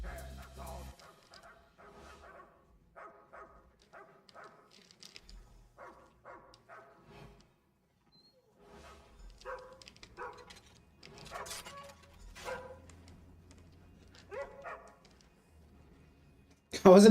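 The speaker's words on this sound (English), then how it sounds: "Doggos." Dogs in a video game bark and yip in short bursts with whimpers between, moderately close, while a person talks over parts of it.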